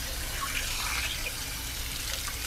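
Water from a flushing wand rinses sediment inside an RV water heater tank, a steady close rush and gush of spraying water that runs without a break.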